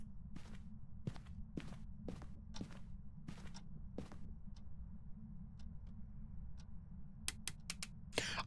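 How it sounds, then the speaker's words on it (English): Footsteps in the ghost-hunting video game Phasmophobia tap out as sharp, evenly spaced steps over a low hum, fading mid-clip and then returning faster and louder near the end. "I really thought I heard footsteps for a second"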